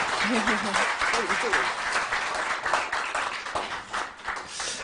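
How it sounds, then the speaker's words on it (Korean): Audience at a Korean political talk event applauding a presidential candidate, sustained clapping from a crowd with voices and some chatter mixed in. "김두관 후보님께 박수 부탁드립니다"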